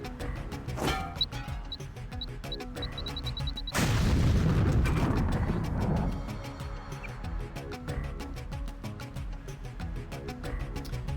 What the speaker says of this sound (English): So we're going to use grenades here. A grenade here.